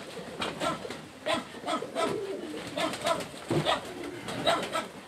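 Pigeons of an old Serbian breed coo close by in a loft, repeated soft rolling calls in an uneven rhythm with brief pauses between them.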